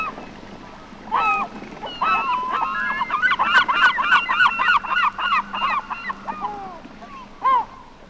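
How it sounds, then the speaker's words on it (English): Herring gulls on an inland water in late afternoon, a flock giving loud overlapping laughing and yelping calls, busiest in the middle, with a single call near the end. "Here are some herring gulls calling in the late afternoon on an inland water."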